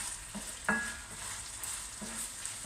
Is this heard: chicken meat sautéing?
yes